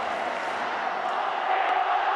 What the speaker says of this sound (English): this crowd has just gotten louder and louder as the innings have gotten later and later